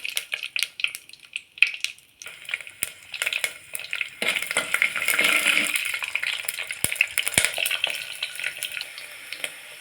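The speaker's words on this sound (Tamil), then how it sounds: "எண்ணெய் சூடானதும் வெந்தயம் போடுங்க தாளிப்புக்கு. வெந்தயம் பொரிஞ்சதும் 10 பல்லு பூண்டை போட்டுடலாம்." Fenugreek seeds and garlic cloves frying in hot sesame oil, crackling pops and sputters with occasional utensil clinks, building to a denser sizzle midway, close and without talk.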